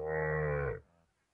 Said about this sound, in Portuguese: Aqui é o gado solteiro.